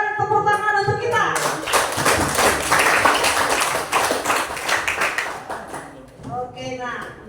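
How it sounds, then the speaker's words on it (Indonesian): A classroom of students claps loudly for the presenting groups after a taxation lesson discussion, a burst of dense clapping lasting several seconds, with a voice speaking before it starts and again as it dies away. "berikan tepuk tangan untuk kita"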